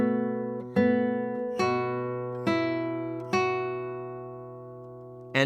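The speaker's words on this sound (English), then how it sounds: "Rather, what we do is we pluck the 5th and the first string together" Classical guitar with the fifth and first strings plucked together, four clear ringing attacks at an even pace, each note sustaining and slowly fading before the next, played alone and close.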